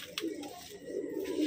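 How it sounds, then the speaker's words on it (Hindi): Soft, low pigeon cooing repeats in gentle throaty phrases, fairly close, with faint background noise and no talking. "ये कबूतर है।"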